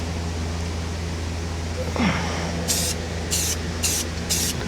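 Rust-Oleum spray paint hisses from a can in four short bursts as it coats a tube, close and fairly loud over a steady low background hum, with no talking.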